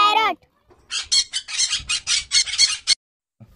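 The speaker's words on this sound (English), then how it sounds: "P for parrot." Parrot squawking in a children's alphabet phonics song, a quick burst of harsh, choppy squawks following a short sung note, loud and close, ending in silence.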